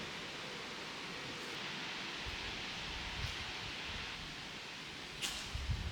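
Steady broadband wind roars outdoors at a former RAF airfield, constant and fairly loud, with a few brief gusts buffeting the microphone and no voices.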